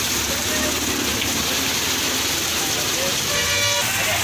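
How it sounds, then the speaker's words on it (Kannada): Vehicles drive through a rain-flooded road in Bengaluru, making a steady broadband rush of water and tyres with engine rumble and a few brief horn toots, continuous and fairly loud throughout. "ಅದೇ ಮುಳುಗೋಗಿರುವಂತಹ ರಸ್ತೆಯಲ್ಲಿ ವಾಹನ ಸಂಚಾರವನ್ನ ಮಾಡ್ತಿದ್ದಾರೆ"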